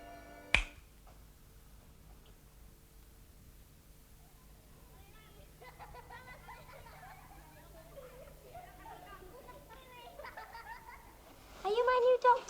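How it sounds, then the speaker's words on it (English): A single sharp finger snap rings out near the start in a quiet room, followed by calm speech and a brief louder voice near the end. "When I snap my fingers, you will wake up"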